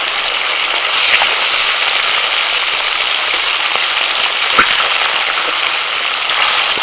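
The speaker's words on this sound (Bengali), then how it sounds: "এবার মাছগুলো একে একে ভেজে নেব।" Khoira fish shallow-frying in hot oil in a kadai, a loud, even hiss close by, dotted with sharp pops and spatters throughout, no voices.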